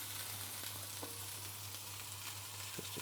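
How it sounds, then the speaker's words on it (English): Wild boar burger patties frying in a touch of oil in a pan, a steady low sizzle throughout with a few faint clicks and taps of utensils, no voices. "Help with the frying process."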